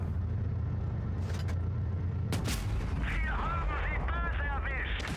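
Tank cannon shots in World of Tanks Blitz, with an E-100 and a T110E5 in battle: a sharp, booming report near the middle rises over constant engine rumble, a softer shot comes earlier, and high whistling game effects follow.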